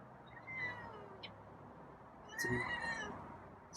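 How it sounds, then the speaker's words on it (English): A feral cat gives two short meows, one faint and one louder, close by against a quiet indoor background. "It's a meow."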